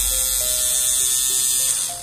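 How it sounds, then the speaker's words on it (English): An old, rusty electric nail file machine whirs loudly and steadily as it files dip powder off fiberglass nails, a constant high buzzing drone that holds its pitch and fades slightly at the very end. "I have to file the dip powder. I have here this really, really old, rusty and crusty machine, but it works like really good."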